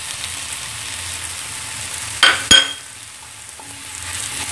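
Vegetables sautéing in a pan with added spices, a quiet steady sizzle broken by two sharp, loud crackling bursts of sizzling as more goes into the hot pan, then settling back to a low hiss.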